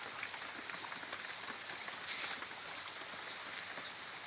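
Rain falls steadily over a house yard with mango trees in Sumatra, a soft, even hiss with faint scattered drops, quiet and without voices.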